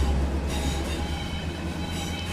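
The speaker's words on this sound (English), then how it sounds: "oh, look. More trains on our right here." Trains passing in Train Sim World 4, a steady, continuous rumble of rolling rail cars with low wheel roar and faint high squeal, close and loud throughout, with no voices.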